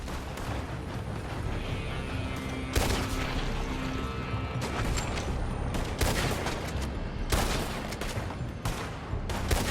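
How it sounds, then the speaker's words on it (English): Rapid gunfire in Red Dead Redemption 2, a dense barrage of overlapping shots with sharp loud cracks and booming reports crowding together, continuous and close, with no talk. "They're shooting from that building!"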